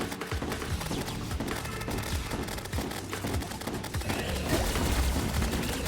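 Rapid volleys of missiles firing in the video game Risk of Rain, a dense crackling barrage of overlapping bursts and pops that keeps up steadily with heavy layered game noise behind it.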